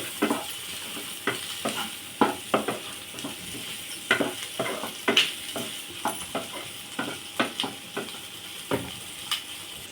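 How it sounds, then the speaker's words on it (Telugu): Prawn curry masala with coconut powder and garam masala is stirred in a frying pan, with rapid scraping spoon strokes in an irregular rhythm over a soft steady sizzle, up close. "ఇప్పుడు మొత్తం కలబెట్టేసుకున్నాము"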